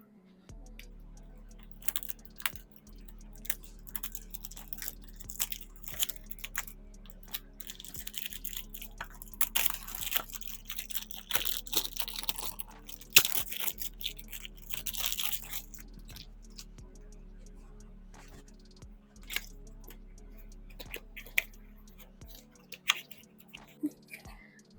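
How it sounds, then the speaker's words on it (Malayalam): A Burberry Goddess perfume box, a 100 ml bottle, is unboxed up close with soft crinkles, taps and scrapes of cardboard and wrapping, in quiet bursts. A low voice speaks intermittently. "നമുക്കൊന്ന് അൺബോക്സ് ചെയ്യാം"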